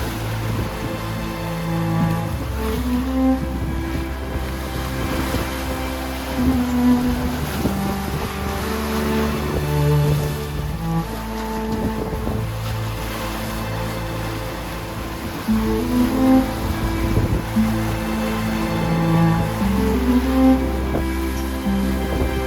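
A Leopard 44 catamaran under way at about 7 knots, with a steady rush of water and wind noise along the hull and a low motor-like drone throughout, loud and continuous with no talk.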